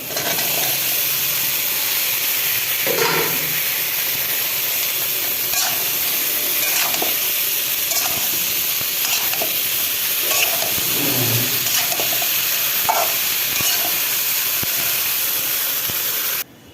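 Pointed gourd and potato curry sizzles in a pan as it fries, a steady close hiss with scattered crackles and the clink of a utensil running throughout, without talking.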